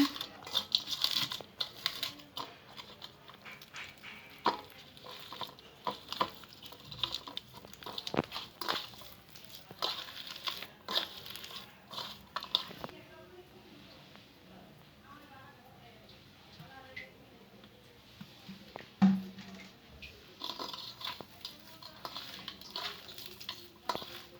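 Fried tomato and boiled potatoes being mashed by hand in a home kitchen: soft squelching, pressing and crinkly scraping noises come in bursts, with someone speaking over them.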